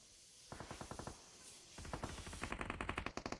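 Rapid machine-gun bursts in a video game: a short volley followed by a pause, then longer, louder strings of evenly spaced shots that speed up toward the end.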